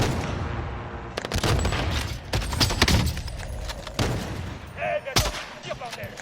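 Gunfire in Call of Duty Modern Warfare: dense bursts of shots and loud cracks repeat throughout, close and busy, with a few brief game sound effects mixed in.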